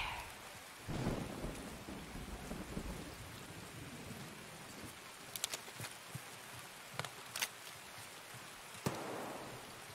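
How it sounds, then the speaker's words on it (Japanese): Rain pours steadily in the video game Escape from Tarkov, a dense wash of falling water with rumbling thunder early on and a few sharp crackling strikes later, with no speech. "出直してもいい雨降ってるから"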